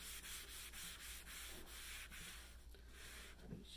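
Varathane Kona wood stain is rubbed onto wood with a cloth, producing a continuous close, soft scrubbing and rubbing sound with rhythmic strokes and no voices.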